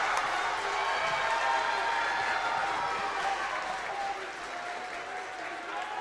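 Home crowd at a men's college volleyball match claps and cheers steadily in a gym, a sustained wash of applause and voices with a commentator talking over it.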